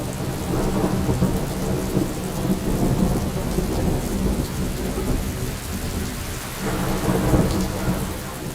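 Heavy rain pours steadily over the UAE desert as thunder rumbles low and continuous beneath it, a dense loud wash of downpour with deep rolling swells and no voices.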